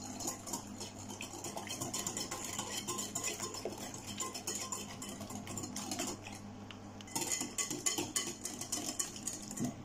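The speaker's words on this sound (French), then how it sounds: "Et je mélange." Chocolate fondant cake batter is mixed in a bowl with a utensil, giving rapid, continuous clinking and scraping taps, close but quiet, growing a little louder near the end.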